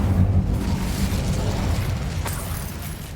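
Fire spell Incendio cast in Hogwarts Legacy, a loud whooshing burst with a low rumbling body that swells at once and slowly fades, with a sharp crackle partway through.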